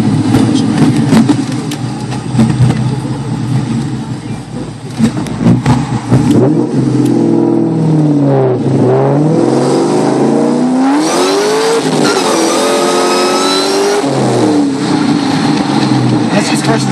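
A 600hp 2004 Mustang Cobra on drag radials accelerates hard through first and second gear, its loud engine revving up, dropping at the shift, then climbing again, with people talking over the roar.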